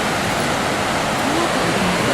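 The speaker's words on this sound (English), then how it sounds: "this is the river just passing by" A river flowing past at a resort makes a steady broadband rush of water, continuous and fairly close, with faint voices in the background.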